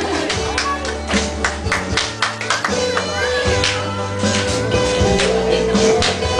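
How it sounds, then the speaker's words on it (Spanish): Guests at a wedding party clap for a man being introduced, with scattered, uneven hand claps and taps rising and falling, mixed with a voice speaking over the room. "Vamos a darle un fuerte aplauso a ese caballero tan guapo"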